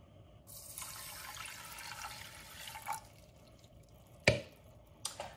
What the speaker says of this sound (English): and then add our water